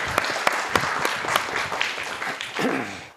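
A small audience at an evening habitat gardening program in a red barn gives a round of applause for the volunteers, steady clapping with a few sharp louder claps, fading slightly toward the end.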